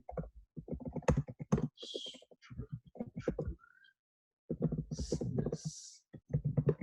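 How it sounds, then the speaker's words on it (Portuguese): Quick bursts of keystrokes on a computer keyboard as a title is typed, close and fairly quiet, with a short pause partway through before the clicking resumes. "deixa eu só digitar ele aqui"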